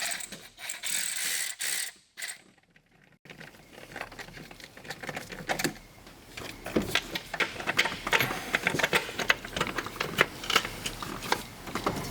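8mm socket ratchet threading bolts back into a cover on a Ford F-150 5.0L Coyote engine: some brief handling noises and a pause, then repeated bursts of sharp ratchet clicking, close and steady through the rest.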